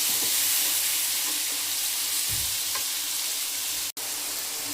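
Chopped tomatoes stirred in a hot pan for tomato chutney, giving a steady close sizzle with a few soft scrapes of a spoon and a brief dropout near the end.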